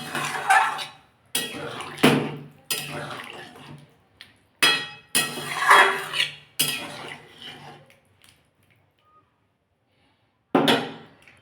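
Metal lid and pot clatter on a cooking pot of fish and potato curry, a series of sharp clanks and scrapes in bursts, then quiet before one last knock.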